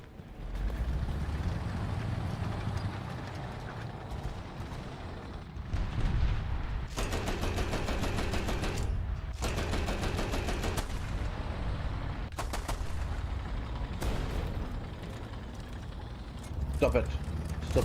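Tank gunfire in a video game, repeated bursts of rapid crackling shots in several long volleys over a rumbling engine bed, with a voice talking in between.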